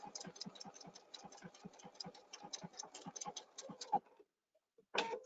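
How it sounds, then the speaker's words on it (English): A sewing machine stitches backwards in quick, evenly spaced mechanical ticks, faint and close, then stops briefly before a short burst of stitching resumes. "At the corner, I touch again, and it's going to sew backwards"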